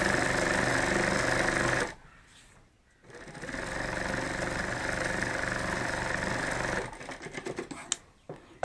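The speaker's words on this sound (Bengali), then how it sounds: "এই পাশটাও এবার সেলাই করে দেবো।" A sewing machine runs in loud, steady bursts while stitching the side of a handmade bag, pausing briefly before starting again with a long continuous run and then slowing into short uneven stitches.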